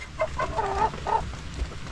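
Several short clucks from chickens nearby, a quick run of calls over a low background.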